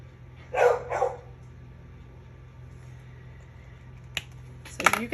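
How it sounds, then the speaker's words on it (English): A dog barks for attention indoors: two quick barks close by, then a quiet pause and a couple of sharper yips near the end, over a low steady hum. "You guys have animals that decide to bark while you're trying to craft because they want attention and you're ignoring them?"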